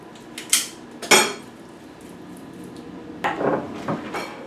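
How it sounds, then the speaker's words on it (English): A tray of vegan sugar cookies going into the oven, heard as a few close metallic clanks and scrapes, two sharp knocks early on and a rattling clatter near the end, with no talking. "There we go, into the oven."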